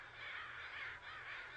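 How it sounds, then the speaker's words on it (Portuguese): Crows call in a run of about three harsh, raspy caws, fairly close and clear, with no other sounds around them. "Os corvos têm um sistema de comunicação muito rico."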